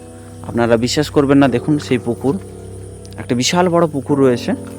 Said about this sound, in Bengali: এবং সেই ঝিঝি পোকার ডাক,